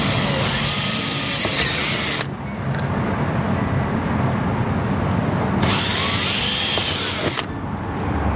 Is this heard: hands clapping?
no